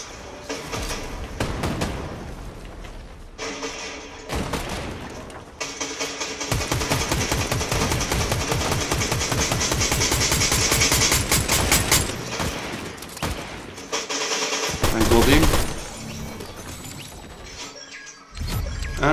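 Gunfire rings out in the Fortnite video game, with bursts of rapid automatic shots and sharp single cracks broken by short quiet gaps, loudest through the middle and ending in a heavy crash.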